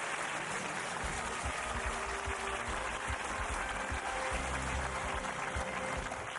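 A studio audience at a televised quiz show applauds in a steady, dense wash of clapping that stays loud and even throughout, with no voices on top.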